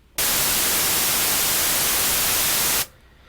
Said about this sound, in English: we're going to choose white noise.